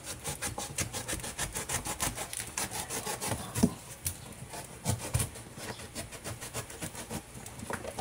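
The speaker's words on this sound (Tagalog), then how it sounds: "Gamitan natin ng cutter." Utility cutter blade slicing through material while building a baking oven, a close, steady rasping and scraping that runs throughout with rhythmic rubbing strokes and no talk.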